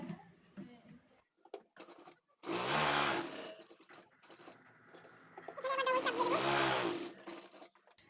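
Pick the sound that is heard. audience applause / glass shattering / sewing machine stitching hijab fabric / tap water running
sewing machine stitching hijab fabric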